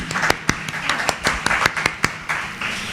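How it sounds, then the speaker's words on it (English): A small audience gives scattered hand claps for three cookbook authors at a talk. Individual claps ring out fairly close and uneven, with quiet gaps between them, rather than a full roar. "Can we just kick it off with a round of applause for these 3 authors?"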